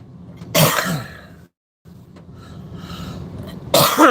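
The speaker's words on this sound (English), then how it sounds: "Cough, cough, cough." Coughing during a casual live stream, with two loud, harsh coughs, one near the start and one at the end, separated by quieter background noise and a brief silent gap.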